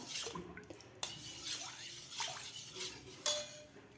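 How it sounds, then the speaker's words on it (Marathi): Flour is stirred into buttermilk in a pot, with quiet scraping and clinks of a spoon against the metal and a faint wet swish. The sounds are fairly soft and close, with no voices. "या ताकामध्ये आपल्याला एक पीठ घालायचं आहे व्यवस्थित हलवायचं आहे"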